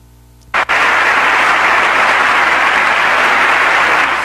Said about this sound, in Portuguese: Ele foi aplaudido em pé